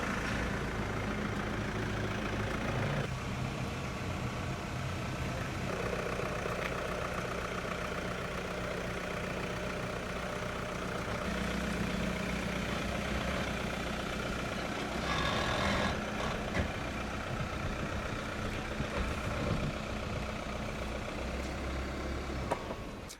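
A Mercedes E-Class maneuvers itself into a parking spot by iPhone app control, its engine a steady low hum and drone with faint shifts in tone, continuous and unaccompanied by talk.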